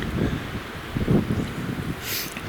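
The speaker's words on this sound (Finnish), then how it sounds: "Tämmönen tuuli" Wind blows steadily across the microphone, a low rumbling buffet with rustling, fairly faint and with no voices.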